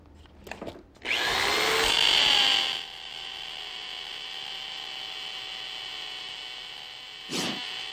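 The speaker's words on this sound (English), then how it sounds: "The Metabo half-inch hammer drill with case and free 5-piece bit set" A Metabo half-inch hammer drill bores into masonry with a loud grinding burst that settles into a sustained high whine for several seconds. A brief second burst comes near the end, with no talk.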